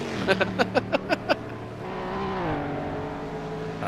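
Race car engine on the Dundrod road circuit in a racing video game, a steady droning hum with a short run of rapid rhythmic pulses near the start, heard under faint background talk.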